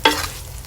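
A hot frying pan bursts into a sharp, close sizzle as beef steak starts to sauté, with a quick loud hiss that settles into quieter crackling.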